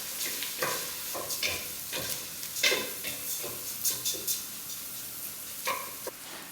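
Round risotto rice stirred with shallots in a hot pan, a soft, close sizzle broken by a series of light scraping and tapping strokes from the spoon at an uneven pace.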